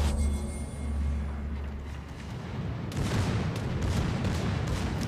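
Main turrets of the German Tier 8 battleship Brandenburg fire in World of Warships, with a heavy rumbling salvo that bursts out loud partway through over constant engine and battle noise.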